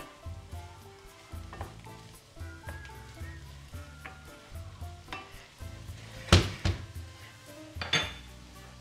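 Mushrooms sizzle steadily in a pan for a meatless mushroom pilaf, with a spoon stirring and a few sharp metallic scrapes and clinks against the pan.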